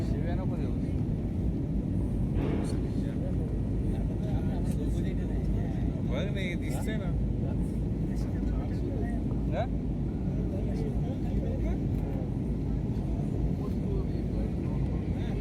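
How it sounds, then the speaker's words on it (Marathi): Loud, steady roar of a jet engine fills an airplane cabin during takeoff from Hyderabad, a constant low rumble with faint rattles and rustles over it. "आपलं विमान फायनली उडलेलं आहे"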